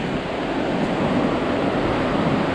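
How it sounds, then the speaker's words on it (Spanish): The fast-flowing Olivia River near Ushuaia in Tierra del Fuego, a steady, loud rushing of water heard close and alone without any talk. "tiene mucha corriente este río"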